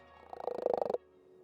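A synthesized frog call from a sound design patch: a rapid pulsing trill of about a dozen croaks lasting roughly half a second, close and clean, then stopping abruptly into near silence.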